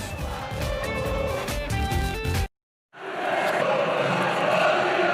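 Recorded stadium crowd noise, played by a club DJ into an empty stadium, plays loudly, cuts to brief silence, then resumes as a broad roaring murmur of many voices.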